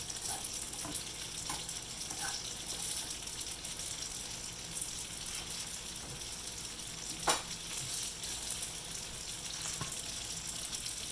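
Chopped garlic frying in a pan for a morel mushroom Alfredo sauce, a steady close sizzle with light stirring scrapes and a brief sharp clink partway through, no voices.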